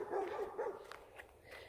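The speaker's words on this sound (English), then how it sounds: "his dog barking" A dog barks outdoors at a rural home, a few quick, moderately distant barks in under two seconds.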